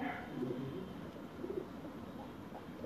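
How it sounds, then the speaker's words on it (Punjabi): A red China domestic pigeon coos softly in a few low, rounded bursts near the start and middle, faint over a steady background hiss. "ਇਹ ਲਾਲ ਚੀਨਾ ਘਰ ਦਾ ਕਬੂਤਰ ਹੈ ਜੀ"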